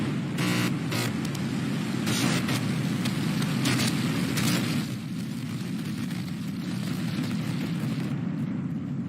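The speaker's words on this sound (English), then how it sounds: "We have liftoff." Starship rocket engines roaring at liftoff: a loud, continuous broadband rumble with a heavy low end and crackling bursts, holding steady for the whole stretch and easing slightly near the end.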